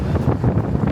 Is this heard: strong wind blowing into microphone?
yes